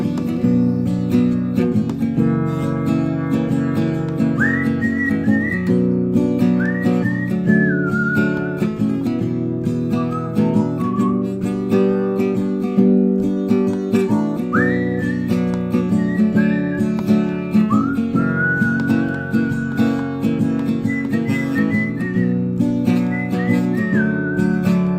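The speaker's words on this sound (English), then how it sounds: "I whistle" A person whistles a long melodic tune, loud and close, with gliding notes and short pauses between phrases running throughout, alone with no talk.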